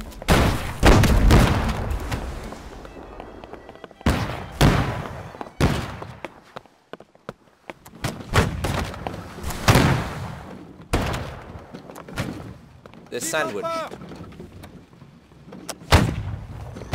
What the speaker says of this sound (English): Keep those cannons going!